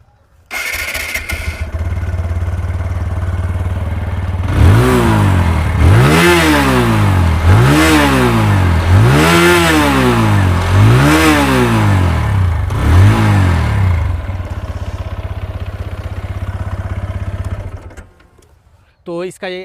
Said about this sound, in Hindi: तो अब इसका एक बार एग्जॉस्ट नोट सुन लेते हैं।